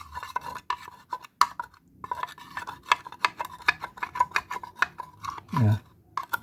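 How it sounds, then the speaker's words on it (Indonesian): Porridge for lovebird chicks being stirred in a small dish, a rapid run of scraping, rubbing strokes and light clinks, close and fairly quiet, with one brief low thump near the end. "Nah, ini buburnya ini kita aduk. Kita aduk sampai rata"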